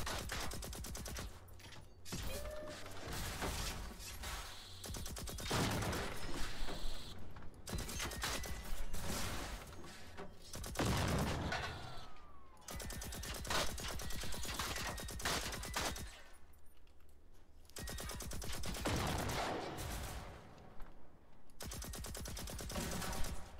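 Bursts of N60 machine gun fire with 7.62 rounds in the video game Generation Zero, loud and close, in repeated rapid volleys with short gaps, plus occasional mechanical clanks, with no talking.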